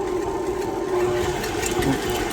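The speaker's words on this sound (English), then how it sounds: "I have 2 sticks of unsalted butter, and I'm just going to give that a whiz" An electric mixer whizzes two sticks of softened unsalted butter, its motor a steady mid-pitched whir with a faint rhythmic knock, close and constant for a couple of seconds.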